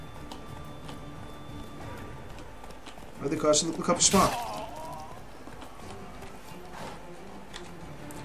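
Horse hooves in The Witcher 3 clatter in a brief burst of clip-clop mid-clip during mounted combat, rising over steady game ambience while someone talks throughout.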